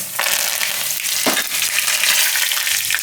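Sesame seeds, red chillies and curry leaves sizzling loudly in hot oil on a low gas flame, a dense continuous crackle and hiss close up, with one brief louder spatter near the middle and no talk.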